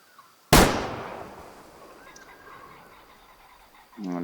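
A single loud, sharp rifle shot in the hunting game Way of the Hunter cracks out and trails off in a long fading echo, followed by quiet ambience and a brief low sound near the end.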